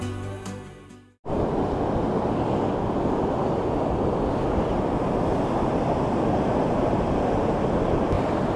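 Surf washes steadily onto a beach beside a groyne, a continuous broad roar of breaking waves mixed with wind buffeting the microphone, loud and close, following a brief fading sound at the start.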